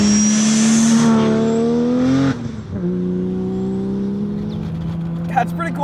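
A 500HP single-turbo Nissan Skyline R32 revs loudly up close, its engine note climbing before dropping off abruptly, then settling into a lower, steady drone, with a few sharp mechanical crackles near the end.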